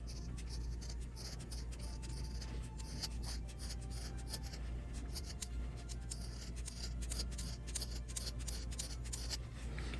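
Scissors trim around the edges of a sewn fabric coaster in a steady run of quick, close snips over a low constant background hum.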